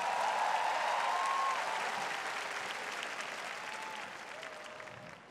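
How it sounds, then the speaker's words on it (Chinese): A large crowd applauds for the dancers at a Taipei baseball stadium concert, a dense, steady wash of clapping from a big audience that slowly tapers off, with scattered whistles ringing through. "谢谢 dancers， 给他们一点掌声好不好？"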